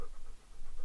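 A dog pants in quick, rhythmic breaths, close and fairly loud, with no other sound over it.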